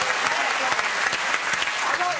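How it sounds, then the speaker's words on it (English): A studio audience on a comedy talk show claps in a dense, steady burst of applause, with voices mixed faintly into the clapping. "I like the way you get a round of applause for being tall"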